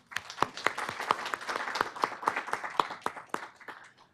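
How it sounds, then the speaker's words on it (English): Audience applause at a workshop welcome session, a few seconds of scattered, moderately faint clapping from a modest crowd, uneven and tapering off toward the end. "Can we give them all a round of applause?"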